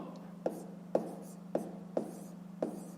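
Pen or marker strokes writing out a math solution, five short scratchy taps in a steady rhythm, close and fairly quiet over a low steady hum.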